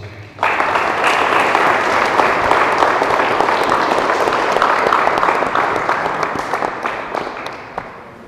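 A church congregation breaks into loud, sustained applause during a ceremony, starting abruptly and slowly fading after several seconds.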